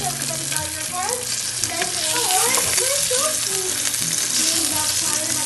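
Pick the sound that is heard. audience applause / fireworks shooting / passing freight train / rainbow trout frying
rainbow trout frying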